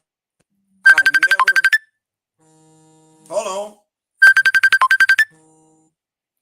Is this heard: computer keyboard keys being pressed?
no